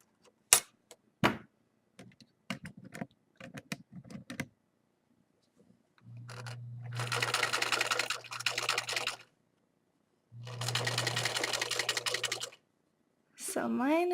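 A sewing machine stitches fabric in two sustained runs of a few seconds each, close and fairly loud, preceded by scattered clicks and handling taps and followed by a person speaking.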